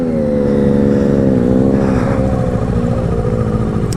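Motorcycles idling and rumbling together at the start of a group ride, a steady loud multi-engine drone with a slight rise in pitch midway, close by and without talk.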